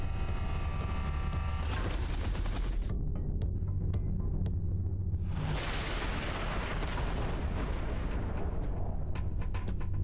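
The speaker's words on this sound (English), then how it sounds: "Watch out, the artillery." Artillery fire in the space combat game Everspace 2 comes as heavy booming blasts with rumbling tails, plus a rapid run of sharp cracking impacts, all loud and close, with no voices over them.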